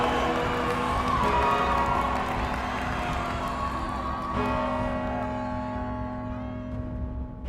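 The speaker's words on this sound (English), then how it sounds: "the streets near the palace of the popes were choked with cheering citizens" A dense crowd of citizens cheers in a street near a medieval papal palace and cathedral, a steady loud roar of many voices with shouts rising over it, easing slightly toward the end.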